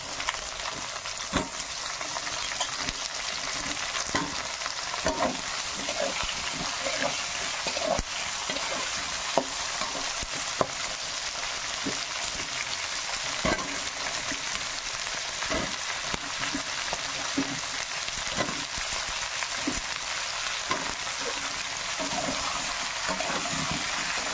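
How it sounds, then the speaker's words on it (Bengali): Flat beans, potatoes and lentil dumplings frying in a pan, a constant close sizzle broken by regular scraping knocks as they are stirred. "সিম, আলু আর বড়ি দিয়ে দিলাম।"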